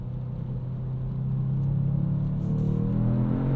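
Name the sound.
2022 Kia Stinger GT engine in sport mode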